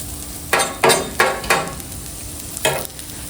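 Onions sautéing on a Blackstone griddle beside smash burgers give off a steady close sizzle, broken by five sharp scraping bursts from a spatula moving them across the hot flat top.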